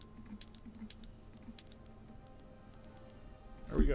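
Rapid mouse and keyboard clicks at a computer during a game of Victoria 3, a quick irregular string of soft close ticks with a louder bump at the end, no talking.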